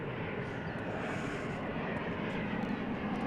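A Boeing 737-800 at Dallas Fort Worth airport produces a steady, moderately distant jet engine roar, broad and even for a few seconds with no voices.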